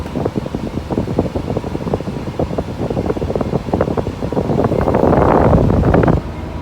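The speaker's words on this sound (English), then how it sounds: "These pipeline machines, lots of times they're just sitting there like we're doing right now, just idling." A pipeline excavator idles with a steady low engine rumble and rhythmic chugging pulses, swelling slightly louder near the end before easing off.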